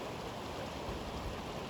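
Filtered water runs from a Sawyer Squeeze filter into a bottle on the Appalachian Trail, a steady close trickle with no pauses.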